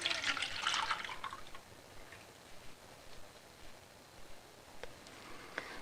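Milk pouring into a pot while making yogurt, a brief gushing splash at the start that fades into faint trickles and drips, quiet and close.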